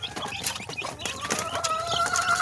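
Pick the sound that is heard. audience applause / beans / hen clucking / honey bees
hen clucking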